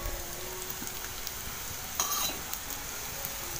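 Aloo vadi shallow frying in a little oil on a tawa, a soft steady sizzle with faint stirring clinks and a brief brighter crackle partway through, no voices.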